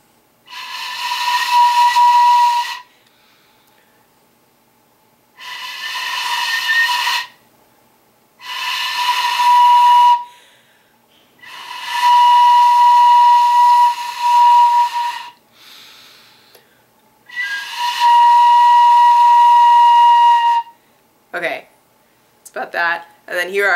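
A Japanese fue bamboo flute blown in several long, breathy sustained tones with pauses between them, close and fairly loud, followed by a brief burst of speech at the end.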